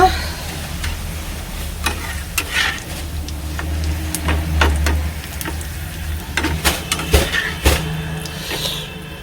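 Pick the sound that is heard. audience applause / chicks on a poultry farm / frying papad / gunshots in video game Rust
frying papad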